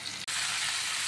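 Mustard and cumin seeds sizzle in hot oil in a pan for a dal tempering, a steady dense crackling hiss broken by one brief gap near the start, close and loud with no voices.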